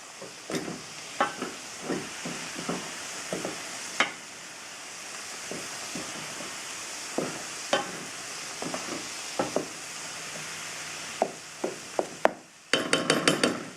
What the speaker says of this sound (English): I'll give it a stir.